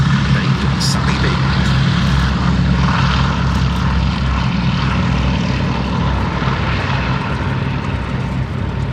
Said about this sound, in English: as the Vampire clears, getting into the air, one of the great favourites of any Duxford air show, the Boeing B-17G Flying Fortress